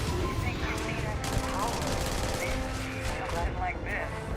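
Rapid gunfire from a weapon in the Starfield video game crackles in quick bursts under a voice talking over the shooting, with busy in-game combat noise.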